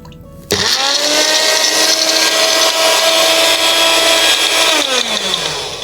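A kitchen mixer grinder whirs loud and steady, blending cumin seeds, manathakkali leaves and coconut with a little water into a paste, starting abruptly and running continuously before slowing near the end.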